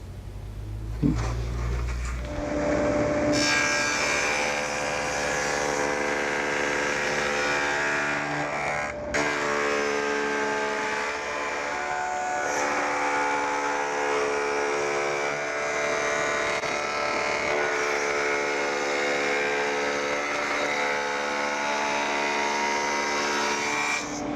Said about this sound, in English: I'm going to go ahead and use the table saw with a stacked dado head cutter to plow out the majority of the material